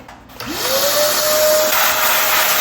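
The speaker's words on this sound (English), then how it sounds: "I think I want to vacuum that out a little bit." A vacuum cleaner spins up and runs steadily, loud and close, drawing dirt out of opened snowmobile components in a garage, a rising whine settling into a constant tone with no talking.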